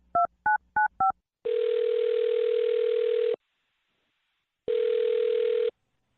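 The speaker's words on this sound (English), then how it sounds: "I'll dial her phone number right now" Telephone keypad tones: four short DTMF beeps dialing a number, then two long steady ringback tones separated by a pause, clear and close with no voices.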